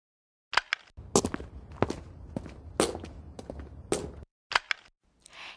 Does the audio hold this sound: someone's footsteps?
yes